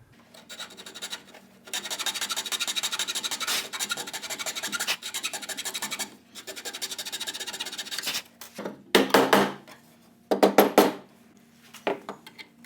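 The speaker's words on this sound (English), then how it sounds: "So I'm going to take my hacksaw blade and fit that, which will drop this." Hacksaw blade rasping through a wooden joint on a stagecoach in a coach shop, with steady back-and-forth scraping strokes for about eight seconds, then a few louder separate strokes after a pause.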